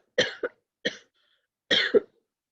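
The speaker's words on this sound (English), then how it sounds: "That is a cough." Three separate coughs from one person, close and dry, each a quick double burst with short silent gaps between them.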